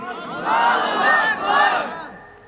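A crowd at a Bangla religious rally roaring the takbir chant, Allahu Akbar, in unison: a loud, swelling mass shout in two surges lasting about two seconds.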